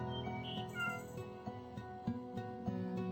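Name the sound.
cat meowing in video game Secret Cat Forest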